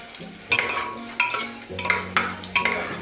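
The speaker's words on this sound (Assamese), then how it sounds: "অলপ ৰঙচুৱা হোৱালৈ মই নহৰুখিনি ভাজি থাকিম।" Garlic frying in a pan with dried red chillies, stirred with a utensil that scrapes and clinks at regular intervals over a steady close sizzle, with no talking.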